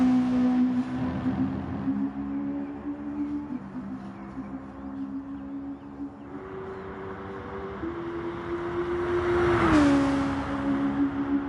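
A racing car engine in a racing video game drops through the gears while braking, its steady tone stepping down in pitch before a loud rising rev near the end, heard alone and close.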